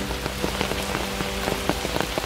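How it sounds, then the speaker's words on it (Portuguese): Steady rain falls and patters on a surface, with scattered heavier drops ticking through a constant wash of noise, close and even throughout. "tá chovendo aqui"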